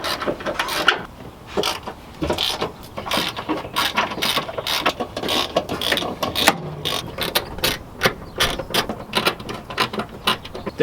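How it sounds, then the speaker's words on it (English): A hand ratchet removes bumper bolts on a Toyota Cressida, clicking in quick, steady runs of close, crisp pawl clicks with brief pauses between strokes and no talking. "There's 2 of the bolts that I need to take off for the bumper"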